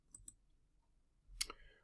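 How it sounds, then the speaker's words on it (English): A computer mouse clicks at a desk, a couple of quick faint clicks near the start followed by a louder, sharper click-and-rattle about a second later, with nothing else in the room. "Just clicking File, New Project."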